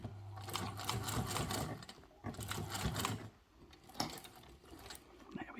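A sewing machine runs in two steady bursts of top stitching along the side of a crescent-shaped bag, its motor hum and rapid needle clatter close and clear, with a short pause between runs and quieter handling noise after.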